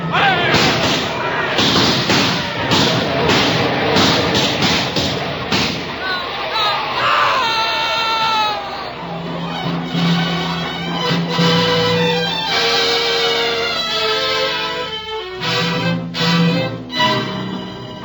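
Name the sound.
rifle volley gunfire sound effect in radio drama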